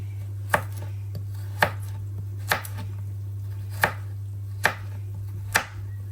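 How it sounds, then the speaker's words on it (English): Knife slicing a carrot into strips on a cutting board, six sharp separate knocks spaced about a second apart over a steady low electrical hum. "Cut the carrot in two. Slice it in two. And then make some strips."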